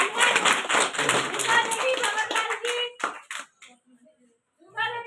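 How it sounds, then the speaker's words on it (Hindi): An audience at a women's empowerment awareness event claps hands, a dense burst of clapping for about three seconds that thins into scattered claps, with brief voices near the end. "तालियां बजा सकते हैं।"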